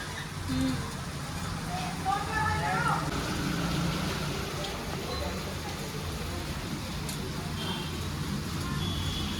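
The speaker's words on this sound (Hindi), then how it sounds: "और अभी बारिश की आवाज़ सुन सकते हो" Heavy rain falling at dusk in a hill area: a faint, steady patter and hiss in the background, with a voice speaking over it near the start.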